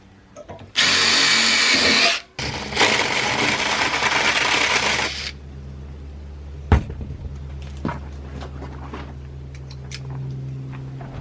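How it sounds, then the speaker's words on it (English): Steel fender washers are drilled with a power drill in two loud, whining bursts lasting a few seconds each. Sharp metallic clinks and small taps follow as the parts are handled afterward. "I need to drill the holes through these fender washers to match the holes in the T-nuts"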